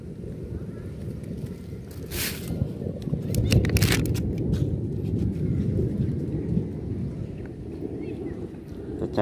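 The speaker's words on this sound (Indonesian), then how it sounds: "Suara petir udah, aduh ya Allah." Thunder rumbles low and heavy with steady rain at an outdoor fishing spot where tilapia are being caught. The roll swells in the middle and stays continuous throughout.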